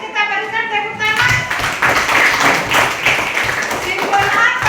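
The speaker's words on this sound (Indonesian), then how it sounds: "kita berikan tepuk tangan" A classroom group claps in a quick, brisk round of applause, close by, with voices talking and calling out over the clapping.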